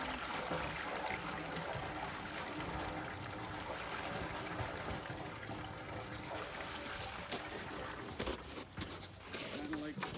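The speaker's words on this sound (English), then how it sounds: "So this is your raw sap going into this holding tank" Raw maple sap pours into a holding tank at a sugarhouse, a steady trickling water stream running throughout with faint voices and a few knocks and shuffles near the end.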